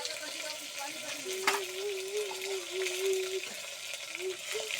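Curry leaves and turmeric powder dropped into hot oil in a home kitchen pan, a steady crackling sizzle with a soft stirring sound, while a voice talks and hums over it.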